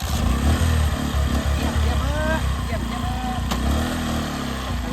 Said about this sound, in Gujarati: ચાલુ કર ફટફટ સેલ જ વાગતો